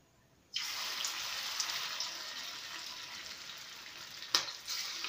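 Maggi pakoras drop into hot white oil in a pan, setting off a steady, close bubbling sizzle that holds throughout, with one brief sharper crackle near the end.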